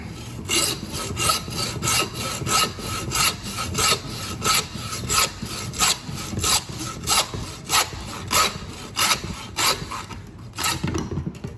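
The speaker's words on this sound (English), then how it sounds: "Here at the top of the head, the skull, you want to start cutting there and then make a cut straight down." Hand saw cutting through the top of a deer skull, a steady rhythm of rasping back-and-forth strokes, close and loud, continuing throughout.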